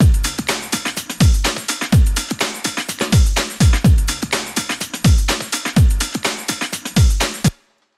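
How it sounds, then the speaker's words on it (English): A busy, syncopated breakbeat loop with punchy kicks, crisp snares and rapid hi-hats, loud and close, ending abruptly after several bars. "So all of the drums together sound like this."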